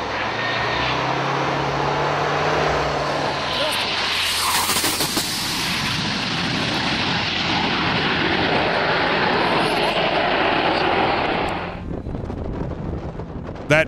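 A damaged F-111C jet making a belly landing with an arrestor cable after losing a wheel: a loud, continuous roar of jet engine and rushing wind noise that rises, holds steady, then drops away near the end.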